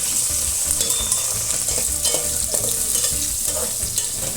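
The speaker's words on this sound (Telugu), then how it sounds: "వేడెక్కే నూనెలోనే ఉల్లిపాయలు వేసుకుంటున్నాము." Onions fry in hot oil with a loud, continuous sizzle and crackle, close up. Occasional stirring scrapes sound throughout, and nobody talks.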